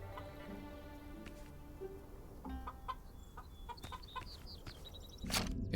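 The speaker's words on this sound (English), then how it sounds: "Look, Chung, there are 2 free-range chickens here." Two free-range chickens in a video game give faint, scattered clucks over a low steady background hum, with a brief louder burst near the end.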